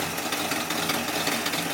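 A Chevy Squarebody truck engine that sat abandoned for years runs with a bad exhaust leak, giving a steady, loud, rough ticking rumble up close with no pauses.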